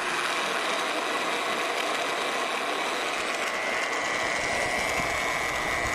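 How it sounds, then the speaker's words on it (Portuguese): A magnetic base drill runs while drilling sequential, parallel holes in steel plate, giving a steady whirring mechanical drone with a constant tone and no pauses across the span. "Vamos começar a furação. Vou ligar."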